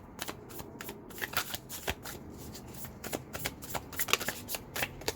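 Tarot cards being shuffled for a reading, a close, crisp run of riffling and flicking bursts in irregular rhythm, nearly alone with little talk.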